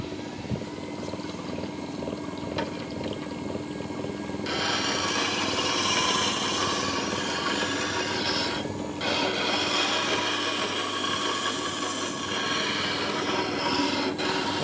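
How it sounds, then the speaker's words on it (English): A Tormek DF-250 diamond wheel sharpens a bowl gouge, giving a steady close grinding rasp with a low motor hum underneath that grows louder and harsher once the steel presses in and then runs on without letup. "So now let's sharpen the bowl gouge."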